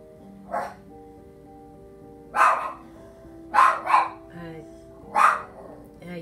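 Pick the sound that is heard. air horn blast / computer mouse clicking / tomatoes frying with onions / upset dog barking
upset dog barking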